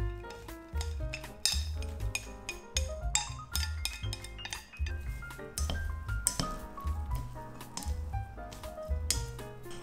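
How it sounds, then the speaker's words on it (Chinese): Shredded radish being stirred in a bowl with the other ingredients for crispy radish pastries, giving steady clinks and scrapes of a utensil against the bowl along with soft wet mixing sounds, close and continuous. "然后简单的搅拌一下。"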